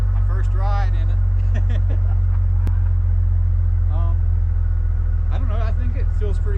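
A 1966 Ford F-250 factory 4x4 truck, abandoned for 17 years, rumbles steadily along the road with a low, constant engine drone throughout, while people talk over it inside the cab.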